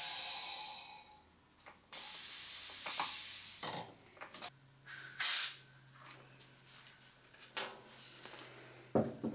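Bursts of compressed air hiss while a handheld powder duster for treating a wasp nest at height is charged, several short sharp rushes with pauses and clicks between them, close and fairly loud.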